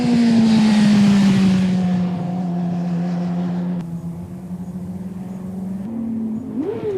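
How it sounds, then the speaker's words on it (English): A motorcycle engine is revved too high during downshifts while the rider works the brake lever on and off. A loud, steady engine drone sags slightly in pitch, then ends with a quick, sharp rev blip. "He's revving it, but too high and still on and off the brake lever, pogoing the bike."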